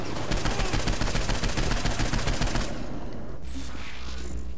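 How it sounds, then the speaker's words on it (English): Rapid bursts of automatic gunfire aimed at the player in the Saints Row 4 video game, loud and dense for under three seconds before dropping to a low rumble with no talk. "I'm getting shot."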